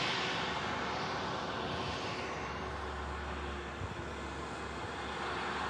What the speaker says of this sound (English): Ryanair arriving in from Cork.